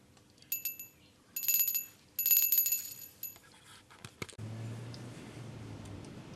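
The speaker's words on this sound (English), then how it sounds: "A little silver bell." A small handmade silver bell gives several bright, close rings in short bursts, each note decaying quickly, with quiet handling sounds and a soft background hum afterward.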